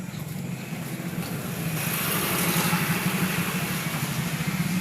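A motorcycle engine is kick-started with the ignition on, then settles into a steady idle. The low, continuous rumble grows slightly louder partway through and holds there, with no voices.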